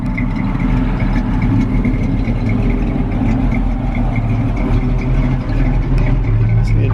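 A 1966 AMC Rambler Marlin with a 350 engine, 700R4 overdrive transmission and Flowmaster exhaust idles steadily outdoors, giving a loud, continuous low rumble with no talk over it.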